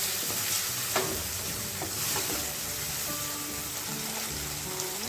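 Broad beans, tomato and garlic sizzling in a hot pan, a steady loud frying crackle throughout with occasional stirring scrapes and clinks.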